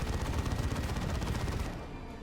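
Dense rapid-fire bursts from an assault cannon in the real-time strategy game Dawn of War 2, a continuous loud stream of shots that trails off at the end, with no voices over it.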